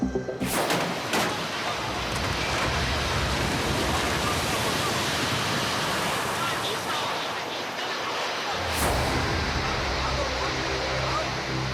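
Flood water of the Shiteng River rushing through the streets of Shifang after days of heavy rain, a loud, continuous broad roar with brief surges and a short dip near the end.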